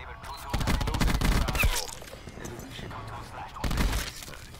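Automatic gunfire in a video game gunfight rattles out in a long, loud rapid burst, followed by quieter background noise and a second short burst near the end.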